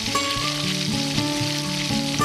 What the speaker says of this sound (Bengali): সাদা তেলটা গরম হয়ে গেলে এই কোফতাগুলোকে দিয়ে দেব লাল করে ভেজে নেওয়ার জন্য।